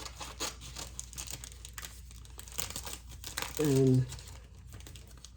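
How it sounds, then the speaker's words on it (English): Cellophane is cut and peeled off a sheet, giving a short bout of crinkling close by, mixed in with a person talking. "peel the cellophane down"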